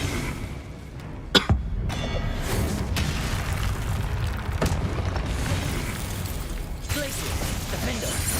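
Confringo blasting spells in Hogwarts Legacy go off as several sharp bursts scattered over a rumbling game backdrop, with a voice talking and a cough-like sound mixed in.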